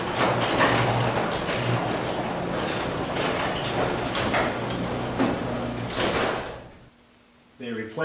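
A garage door with two newly replaced torsion springs and a new cable runs steadily for about seven seconds, a continuous rolling, rattling rumble that stops abruptly; a voice starts speaking just after it goes quiet.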